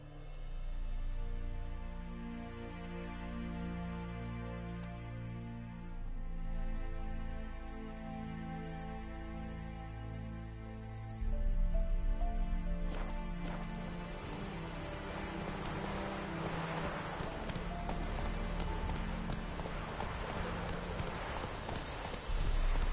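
Roach, Geralt's horse in The Witcher 3, gallops in a steady rhythmic clip-clop of hooves under a sustained musical backdrop, which gives way to a louder, denser hissing wash in the second half as the hoofbeats continue.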